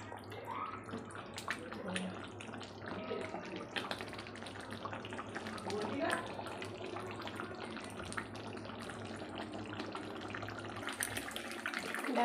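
Water runs steadily into a pot of cooking mutton curry, a continuous close pouring and splashing that lasts throughout, with faint kitchen hum underneath.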